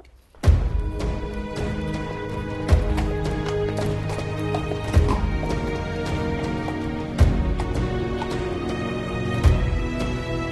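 Horse hooves clip-clopping as the animal moves about during grooming, a few heavier thuds landing at steady intervals over a constant stable-like background with rich tonal hum.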